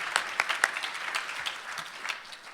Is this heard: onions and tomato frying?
no